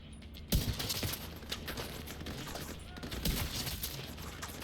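Gunfire crackles in The Division 2, a sharp loud burst opening into rapid overlapping shots and rattling mechanical noise, with a second cluster of shots near the end over continuous background din.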